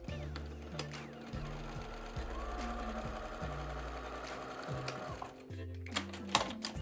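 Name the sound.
sewing machine stitching fabric squares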